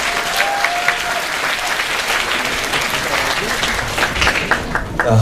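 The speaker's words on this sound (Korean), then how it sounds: "우리 하나님께 영광의 박수." A church congregation applauds together, steady dense clapping throughout with a few voices briefly rising over it.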